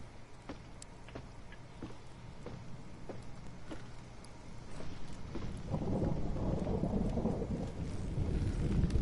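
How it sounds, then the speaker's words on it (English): In a PS4 video game, a distant thunderstorm rumbles and swells into a steady wash of storm noise in the second half, while faint wind chimes tinkle sparsely throughout. "Wind chimes, storm in the distance."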